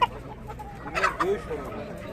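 Chickens and roosters cluck and call at a Kırıkkale poultry market: several close, overlapping bird calls, loudest in the middle, with people talking throughout.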